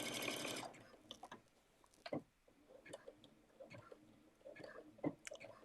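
A domestic sewing machine whirs in a short, quick back-stitching burst, then falls quiet to scattered soft clicks and fabric handling in a hushed room.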